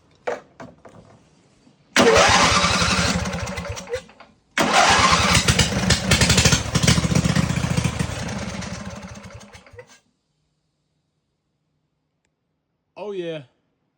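Race lawn mower engine with an open exhaust cranking, catching and running loud and rough with a brief stall and restart, then cutting out to silence before a short burst of speech.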